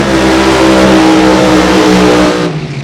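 A blown (supercharged) race car engine at Sonoma screams at high revs, a loud, sustained, harmonic-rich roar that holds steady before dropping off at the very end.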